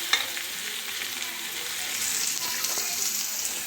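Onions frying in a pan for idli kurma give a steady, moderately close sizzle with faint stirring scrapes, continuous for a few seconds with no talk.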